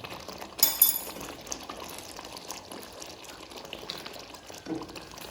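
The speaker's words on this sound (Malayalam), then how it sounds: "ഇനി നമുക്കിതിലേക്ക് നമ്മൾ കലക്കി വെച്ച കോൺഫ്ലവർ ഒഴിച്ച് കൊടുക്കാം." Cornflour slurry is poured into a pan of cooking papaya for halwa, giving a soft, low liquid pouring and bubbling wash with a brief louder splash near the start. No one speaks.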